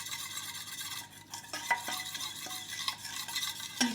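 Flour being stirred into melted butter in a pan to form a paste, with soft scraping strokes and a few sharper clinks of the spoon against the pan, close up, no talk.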